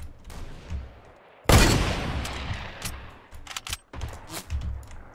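Gunfire in the video game Fortnite, with a loud blast followed by a scatter of sharp, quick shots at varying distances, heard without talk.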